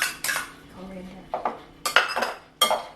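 Spoon and bowl clinks and scrapes as Thai cucumber salad with spring onion, coriander and fish sauce is tossed together, several sharp bursts separated by short pauses.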